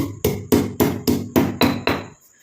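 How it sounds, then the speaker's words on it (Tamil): A piece of ginger being pounded to crush it, seven sharp heavy thuds at an even half-second rhythm, close and loud, then quiet. "இந்த இஞ்சி துண்டை நம்ம நல்லா தட்டிடலாம்"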